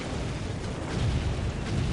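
Dense rumbling bursts of Executioner plasma cannon fire from the Dawn of War Ultimate Apocalypse strategy game, in a 2 vs 2 battle of Eldar and Imperial Guard against Chaos Daemons, a continuous loud low roar of blasts with no talk.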